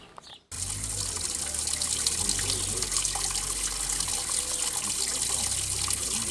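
Water runs from the public fountain in the centre of Krivi Vir village, a steady, close splashing stream that starts abruptly and continues without a break.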